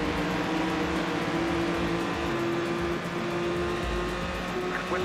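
A Panos LMP race car engine from Total Immersion Racing on PS2 drones steadily, a sustained, even-pitched hum that holds constant throughout at moderate volume.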